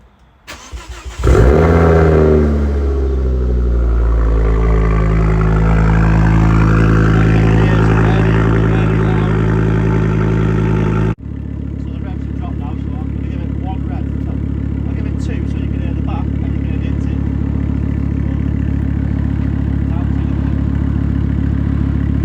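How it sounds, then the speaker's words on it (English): A 2nd-generation Ford Focus ST with a Dream Science exhaust cranks, catches and flares into a loud rev that holds and slowly falls, then drops into a steady, rumbling idle, with a voice talking over it. "I'm only going to start it and give it one rev because it is loud"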